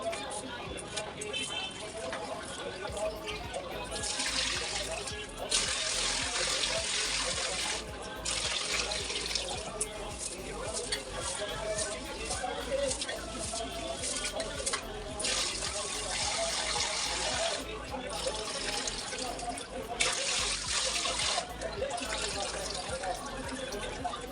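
Rice washed under a running tap in a kitchen sink brings long bursts of gushing water that stop and start, with stretches of quieter splashing and handling between them and a voice talking over parts of it.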